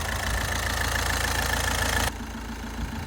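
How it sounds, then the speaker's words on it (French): A Volkswagen Tiguan 2.0 TDI diesel engine idles steadily after a repair, its even mid-pitched clatter running close and loud, then dropping abruptly to a quieter, smoother hum for the final second. "le moteur tourne impeccable"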